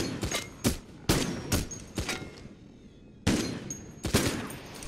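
Gunfire in the video game Payday: The Heist, a string of sharp, separate shots at uneven intervals, some in quick pairs, with a brief lull before the shooting resumes.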